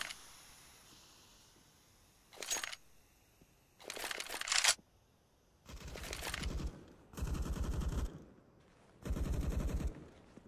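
Five separate bursts of automatic rifle spray from the game CS:GO on the Inferno map, each a loud, fast, clattering string of shots with short silences between them.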